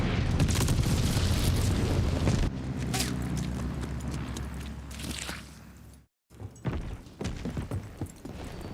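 Heavy explosions rumble through a busy video game battle with bombers and mortars. Deep booms and crackling debris run continuously, broken by a brief dropout, and sharper impacts follow.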